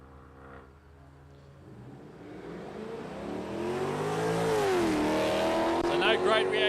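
Outlaw nitro funny cars drag racing at Palmyra Dragway, engines roaring louder and louder as they accelerate down the strip, pitch sweeping upward and then dropping, with a commentator talking underneath.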